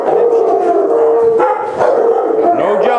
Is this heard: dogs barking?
yes